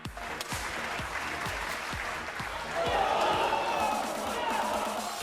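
A crowd at the Olympic women's 10m air rifle shoot-off at the Charleroi Shooting Centre reacts with applause and shouts. Sharp claps and cheers come in bursts and swell louder partway through, with voices mixed into the noise.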